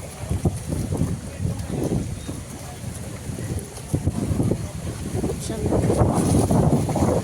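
A small cargo trawler chugs along the Ganges at dusk, its engine a steady low rumble beneath wind buffeting the microphone and the wash of water, with voices faintly present.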